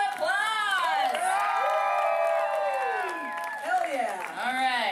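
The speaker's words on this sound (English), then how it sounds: "Everybody give him a round of applause." A crowd at a tattoo awards show applauds, cheers and whoops loudly and continuously for a winner taking the stage, with bright shouted voices standing out above the steady clapping throughout.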